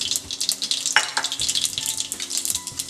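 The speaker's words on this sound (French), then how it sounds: "Je chauffe un peu d'huile dans une poêle. Je mets les grains de moutarde," Mustard seeds sizzling in hot oil in a pan for an Indian gatta curry, a dense close crackle of rapid pops and spits over a few seconds, no voices.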